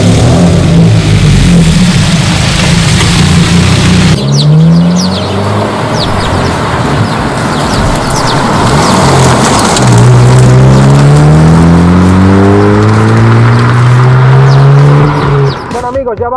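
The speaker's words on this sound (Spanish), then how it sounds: "vamos a ponernos a lo que realmente nos interesa, que es al volante y darle encendido para ver qué tal va" A 2022 Hyundai i20 N compact hot hatch accelerates hard, the loud engine note climbing in pitch and dropping with each gear change, repeated through several pulls.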